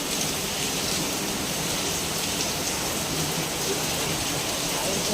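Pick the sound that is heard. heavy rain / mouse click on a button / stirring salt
heavy rain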